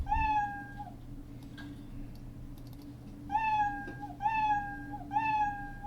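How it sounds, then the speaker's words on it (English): Three meows from the Scratch cat sprite's built-in meow sound effect: one long cry at the start, then three more in quick succession near the end, loud and close over a low steady hum, with no voices. "Play meow sound until done."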